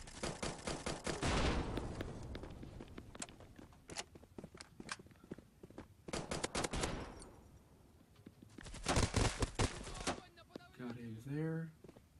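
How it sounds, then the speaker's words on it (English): Gunfire in the Bullet Force shooter game, with rapid automatic bursts separated by quieter gaps, some distant-sounding shots, footsteps, and someone talking over the action. "I really wanted to shoot that guy with the Saga."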